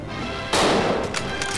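Gunfire rings out in the Dino D-Day video game, a sudden loud shot followed by a sustained burst and a few weaker repeats, without any speech.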